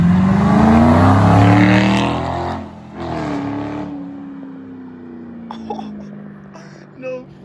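A 2005 Ford Mustang GT with a 3-valve V8 and a Pypes muffler delete exhaust roars past at full throttle, loud and close, then drops away into the distance, with a few faint pops trailing after.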